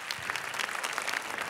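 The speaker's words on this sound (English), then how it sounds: "Let's give them another loud round of applause." Applause from the audience at the close of the TEDxNTU 2022 event, a dense, steady wash of many hands clapping at close range that fills the whole moment without a break.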